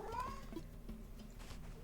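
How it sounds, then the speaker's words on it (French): A cat meows faintly in a room, one short rising call and a brief second mew, heard against a low steady background hum. "continue à miauler"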